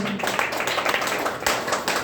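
A gathering applauds a mentor at a DXN health meeting in Sarlahi, with brisk, close hand claps forming an uneven rhythm for about two seconds, punctuated by a sharper smack near the end.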